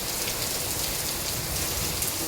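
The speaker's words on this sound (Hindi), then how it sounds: "ये देखो बारिश होगी तेज" Heavy rain pours down outdoors during a windy storm, a dense, loud and unbroken hiss of drops with no voices over it.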